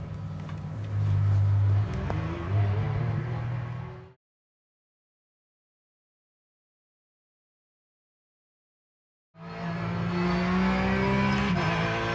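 Porsche 911 engine in the iRacing simulator, revving and droning through laps in two bursts separated by several seconds of silence, with rising and falling tones as it accelerates.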